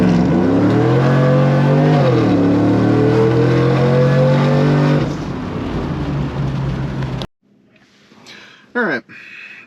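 A supercharged 6.2-liter 2008 Chevrolet Tahoe at wide-open throttle, its loud engine roar climbing in pitch for about five seconds, then dropping to a quieter rumble before cutting out, with a brief burst of noise after.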